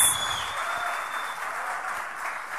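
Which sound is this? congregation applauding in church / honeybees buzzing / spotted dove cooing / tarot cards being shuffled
congregation applauding in church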